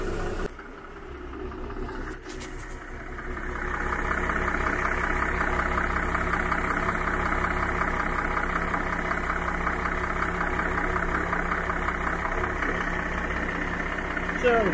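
A Volvo Penta diesel engine in a Carver 3207 Aft boat idles steadily after starting, with a sharp click near the start and then an even, rhythmic chugging hum that holds for about fifteen seconds.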